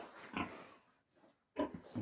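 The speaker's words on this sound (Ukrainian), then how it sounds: "зараз вам покажу вам наших поросяток" Piglets grunt near their sow in a barn, close and lively: a burst of grunts, a quieter lull with soft snuffles, then another loud burst.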